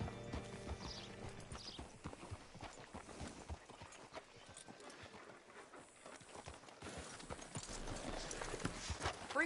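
Horse hooves clip-clop steadily in the Red Dead Redemption 2 video game, a continuous plodding rhythm over a busy ambient bed, with a brief whinny-like cry.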